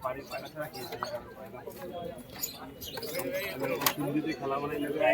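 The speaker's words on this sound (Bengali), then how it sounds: "খাঁচার মধ্যে বিভিন্ন রকম পায়রা আছে" Pigeons in cages at the Beldanga pigeon market in Murshidabad give off soft coos and chirps amid a busy, crowded market din with people talking nearby.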